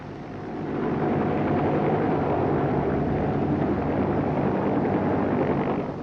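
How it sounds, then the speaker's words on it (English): A 1962 British police helicopter in flight near the M1 motorway gives a steady, loud, broadband rotor and engine roar that holds constant throughout, with no talk. "the helicopter may be the only way for the police to arrive quickly on the scene"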